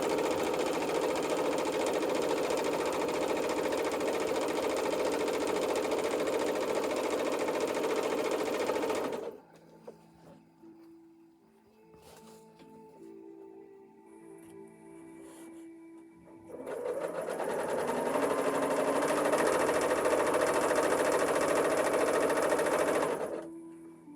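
A sewing machine stitching fabric for an apron runs in a long steady whirring burst, stops for several seconds of quiet handling noise, then starts again and runs steadily, close and loud.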